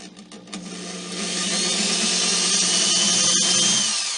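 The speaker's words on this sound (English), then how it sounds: "I drill the pilot holes for them using the" Power drill boring pilot holes in a wooden pantry cabinet shelf with a 5/64 inch bit, a steady high whine rising in and holding close and loud.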